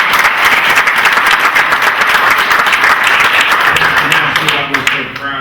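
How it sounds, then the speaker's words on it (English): Audience applause at a Black History Month panel event, dense steady clapping from a crowd that holds strong for several seconds, then thins and fades near the end. "let's give them a round of applause."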